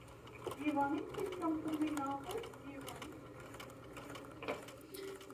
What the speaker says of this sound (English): From here, my machine is going to sew the rest of the buttonhole for me.